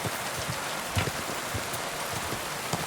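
Rain falling in the video game Kingdom Come Deliverance II, a steady hiss of rainfall with scattered soft drop impacts throughout.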